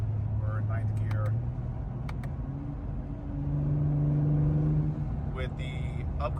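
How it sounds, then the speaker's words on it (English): An Acura NSX with upgraded charge pipes, downpipes and exhaust, in Sport Plus mode and 9th gear, drones steadily from inside the cabin as its engine note rises and swells midway. Someone talks over it. "You hear the turbo spool up instantly."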